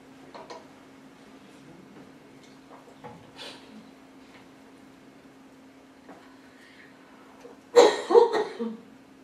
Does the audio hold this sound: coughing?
yes